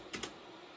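A few quick key clicks on a computer keyboard, two brief close taps in quick succession, then a steady quiet hum with no voices.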